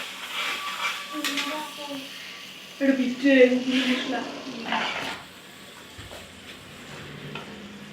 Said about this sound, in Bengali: তারপরে মশলাগুলো অ্যাড করে একটু নাড়াচাড়া করে দিলাম।